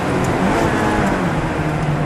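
A Ferrari F430 engine roars steadily and loudly up close while braking on a racetrack, a continuous dense mechanical drone without talk.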